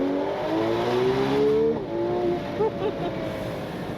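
A 2026 Ferrari 12Cilindri engine revs hard and climbs in pitch, then its dual-clutch gearbox snaps through a quick upshift and the engine pulls on, loud and close from inside the car.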